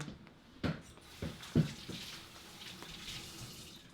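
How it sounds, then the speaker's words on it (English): Tap water runs steadily as hands are washed under it in a home kitchen while baking an Italian cream cake, with a few louder splashes and bumps over the quiet, continuous flow. "let me wash my hands here real quick"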